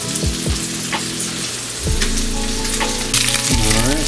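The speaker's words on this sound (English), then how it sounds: "I'm gonna give my meatballs a little turn since they're starting to brown on one side." Meatballs browning in a pan give off a steady, close frying sizzle with crackling pops, and a few clatters and scrapes are heard as they are turned.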